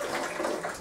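Water runs steadily from a tap in a bathroom or washroom, a continuous close splashing hiss with no pauses.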